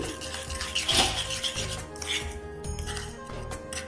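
A silver-cleaning solution stirred in a bowl makes repeated metallic clinks and scrapes in a steady rhythm, close and moderately loud, with a brief harder clatter early on.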